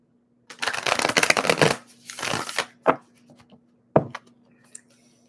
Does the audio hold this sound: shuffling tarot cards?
yes